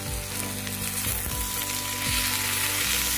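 Pieces of beans and eggplant fry in hot oil in a pan for a spinach curry, giving a continuous, fairly loud sizzle with occasional soft knocks as they settle.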